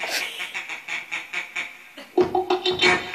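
A toy robot in dancing mode plays the chirpy duck-dance tune, with quacking electronic notes in bouncy repeated bursts, close and fairly loud.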